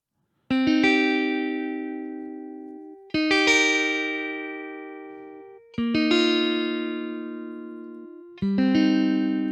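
Four clean guitar chords strummed one after another, each left ringing and slowly fading before the next, with no voices.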